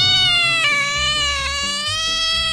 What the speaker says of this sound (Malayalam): അവൾ കെട്ടിപ്പിടിച്ച് കിടക്കുന്നു ആരെ അവളുടെ ചക്കിപ്പൂച്ച